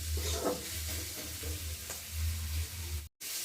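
Chicken seasoned with chili powder fries in a pan, giving a continuous moderate sizzle with occasional spits and a low hum, briefly cutting out just before the end; no one speaks.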